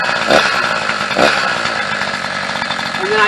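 Running chainsaw with its chain spinning when engaged, a continuous buzzing engine drone close by with a couple of brief revving swells, steady throughout.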